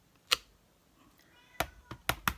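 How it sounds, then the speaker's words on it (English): A house cat meows a few times indoors near a crafting table, short separate calls spread over a couple of seconds, close and moderately loud against a quiet room. "I hear my kitty cat."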